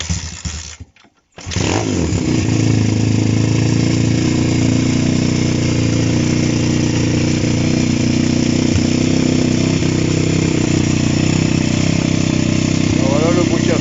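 A 2020 Apollo RFZ 150 motocross bike's engine: after a short cough and a pause it fires up and runs loudly and steadily close by, a rough, buzzing idle with slight variations.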